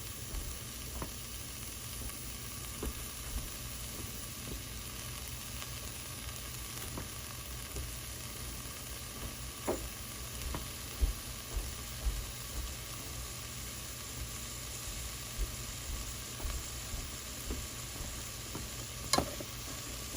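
Peppers, onions and minced garlic sauté for pepper steak, a steady close sizzle and crackle of frying with faint stirring clicks scattered throughout, no voices.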